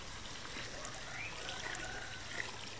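Water trickles and pours into a mixing container for a soil wattle-and-daub mix, a soft, steady dribble at moderate distance that runs for about three seconds without talk.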